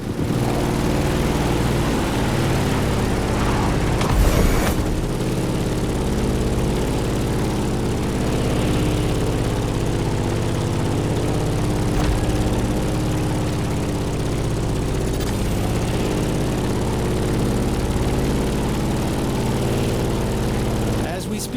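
A steady, droning propeller engine of a Grumman F8F Bearcat in a video game hums continuously at a constant loud level, with a brief thump early on.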